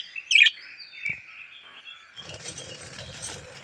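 Pet birds chirp noisily while waiting to be fed, with a few loud, close tweets at first, then a busier, rustling chorus of small calls.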